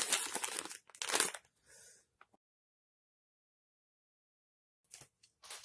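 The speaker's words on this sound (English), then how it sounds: "I like this heavy paper. I believe this is the scissor sharpener. And I need a knife to cut that open." Knife slicing through heavy paper packaging around a scissor sharpener, a few close crinkling and tearing bursts in the first two seconds, then silence before faint rustles near the end.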